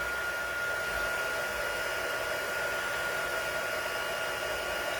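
A heat embossing tool blows hot air onto a card sentiment, a steady, loud whooshing fan roar that holds constant from start to finish with no talking.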